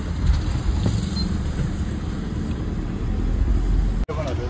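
Inside an MSRTC ST bus pulling away from Kurla station in Mumbai, a continuous loud rumble of engine and road noise fills the space, broken by a brief dropout near the end.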